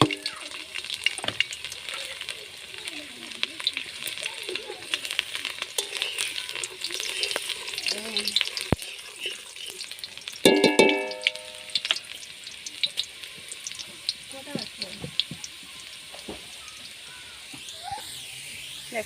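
Chopped garlic frying in a little leftover oil after paneer, a steady bright sizzle with scraping and stirring clatter, close and continuous, with a brief louder clink in the middle.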